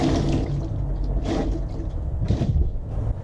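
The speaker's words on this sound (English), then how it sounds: "I'm gonna get some fresh water to rinse that off." Fresh water splashes steadily over a Harley-Davidson Electra Glide front brake caliper, a continuous close, loud wash with a low rumble and brief surges in the flow.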